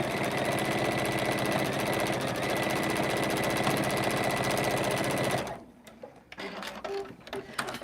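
A sewing machine stitching a diagonal fabric seam runs at high speed in a fast, steady mechanical whir for several seconds, then stops, leaving faint handling clicks.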